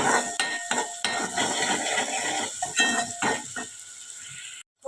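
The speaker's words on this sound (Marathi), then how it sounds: "कांदा छान लाल परतून घेऊया." Onions sautéing in a pan for a mixed vegetable dish, stirred with a spoon: uneven metallic scrapes and clinks over a soft sizzle, close and fairly quiet, cutting off near the end.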